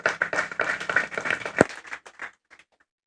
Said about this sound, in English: you clap for this person